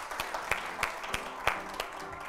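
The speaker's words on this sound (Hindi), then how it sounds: "ये तालियों के" Audience applause in a studio setting, a steady wash of clapping with a few sharper claps standing out, moderately loud and continuous through the short stretch with no talk over it.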